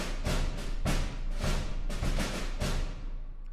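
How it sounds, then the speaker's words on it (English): Orchestral percussion with a bass drum beating in a steady repeating pattern, dense and loud throughout with broad thick hits, layered with other drums and no voices. "for the another element, we're going to add a bass drum, and it's just going to be doing this"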